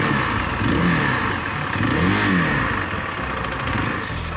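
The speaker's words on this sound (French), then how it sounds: "Le bruit de cette moto..." Zontes 350T motorcycle engine running and revving, a loud steady drone with rising and falling pitch swells, heard alone without talk.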